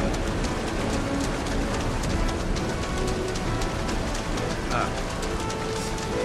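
Steady hiss of heavy rain pouring down during a tornado in Kingdom Hearts 3, with a voice talking over it throughout.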